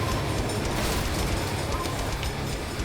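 A train rushes past in The Crew Wild Run racing game, a dense, loud rumbling roar that fills the short moment steadily.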